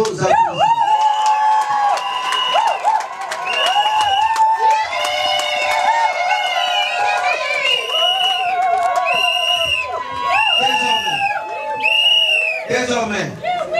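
Wedding guests cheer and applaud the newly declared married couple, a dense, loud crowd of shouts, whoops and excited voices that keeps going without a break.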